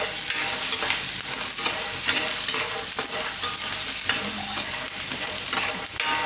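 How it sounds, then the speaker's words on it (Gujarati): Spices and salt roast in a little oil in a pan for a Gujarati potato dish, a steady close sizzle broken by the scrape of a stirring spoon, with no talking. "અને થોડીક વાર શેકી લેવું આપણે"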